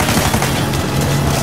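Gunfire rattles through a firefight in Uncharted 4, a dense, loud, continuous wash of shots and booms with no clear gaps.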